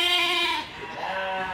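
Merino-Suffolk crossbred sheep giving one loud, close bleat that fades into a softer, wavering second call.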